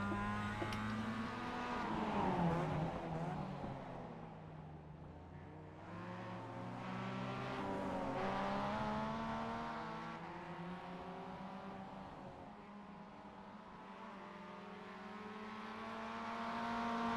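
Race car engine in iRacing during a career-season race, a continuous drone swelling and easing through gear changes and acceleration, moderately loud and heard alone without voices.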